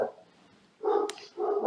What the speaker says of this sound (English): Kim has gone to stop the four-leggeds from barking.